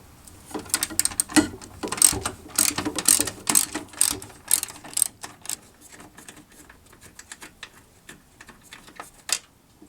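Ratchet wrench loosening the top radiator bolt on a 2004 Toyota Tundra with the 4.7L engine, rapid close clicking bursts in quick strokes that slow and fade toward the end.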